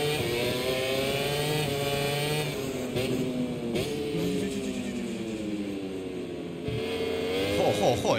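A racing motorcycle engine in the video game MotoGP 24 whines and shifts pitch through gear changes and braking, sustained throughout with some background game sound.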